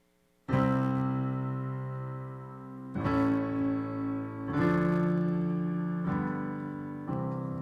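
Struck chords ring out one after another, a 5-of-2 secondary dominant progression where the 6 chord turns major, each sustained and decaying before the next; close, moderately quiet, no talk.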